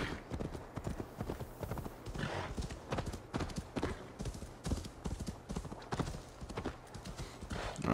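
Rhythmic hoofbeats of a horse galloping in Assassin's Creed Valhalla, a fast steady clip-clop cadence continuing throughout, close and moderately loud, with a brief neigh and no talking.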